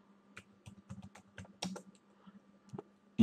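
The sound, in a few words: typing on a computer keyboard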